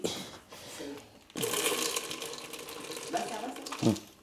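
Water runs from a tap in a steady broadband rush that starts abruptly after a quiet second and carries on to the end, with faint voices and small knocks around it.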